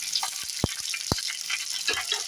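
Diced capsicum and sweet corn frying in a pan for masala macaroni: a steady, close sizzle with a few sharp pops and clicks of stirring, no talking.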